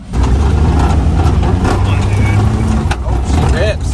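A Mitsubishi 4x4 mini truck in four-wheel drive rumbles with a loud, low, steady engine drone up close, while voices talk over the engine noise.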